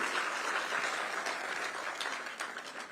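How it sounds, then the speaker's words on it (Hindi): Audience applause at a Himalayan Day event in Dehradun, a steady wash of many hands clapping, fairly faint and distant, fading slightly near the end. "तो एक बार ताली तो बजाइए आप लोगों को चैतन्य करने के लिए"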